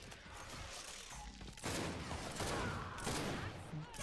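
Gunfire from the Gears 5 video game, a ranked Control match, rattles in dense bursts with mechanical clatter, loud and continuous, a burst of shots swelling around the middle.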